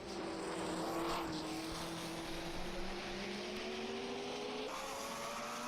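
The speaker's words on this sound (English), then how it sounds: "So that high revving Lancia D50, an absolutely beautiful engine note." A high-revving Lancia D50 1950s Grand Prix race car at Zandvoort sings with a steady, tonal engine note that climbs slowly in pitch, then shifts up briefly near the end, heard at moderate distance without talk.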